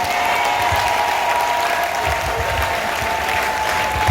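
An outdoor audience at an evangelism gathering on Independence Square in Oyem, Gabon, claps in sustained, dense applause, loud and continuous, with a faint voice beneath.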